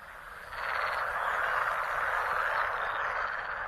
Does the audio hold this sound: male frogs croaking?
yes